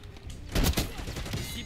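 Automatic gunfire in Black Ops 6 multiplayer sounds as a quiet cluster of rapid shots with a few thuds, set against low game noise and faint background voices.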